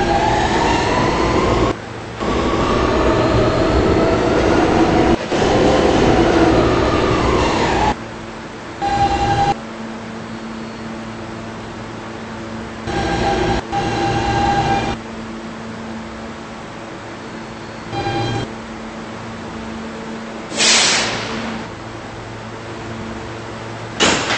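A subway train, an R160 on the B line, rumbles steadily along the track, its loud drone interrupted by several brief gaps and sharp bursts as cars rattle past.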